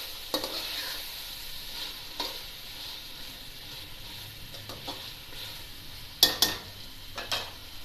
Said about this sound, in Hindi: अब मैं ना इसमें आलू डाल दिए, एक प्याली। ठीक है, इसको भी हल्का सा भून लें।